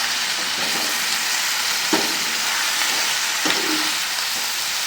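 Mari rakta (blood fry) sizzles and fries in a pan while being stirred, giving a steady crackling hiss with a few soft scraping knocks from the stirring; no talk.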